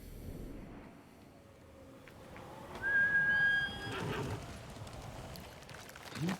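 A horse in a PS5 video game whinnies in a rising, shrill call over a background of ambient rumble and light hoofbeats, moderately loud and a little distant.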